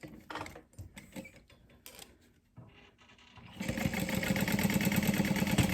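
A sewing machine basting fabric around the border of a small key pouch, starting after a few quiet handling clicks and then running steadily with a fast, even stitching rhythm, close and fairly loud.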